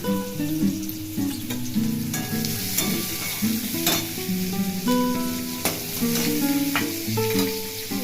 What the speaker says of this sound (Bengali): আমি পটলগুলো সুন্দর করে ভেজে নিচ্ছি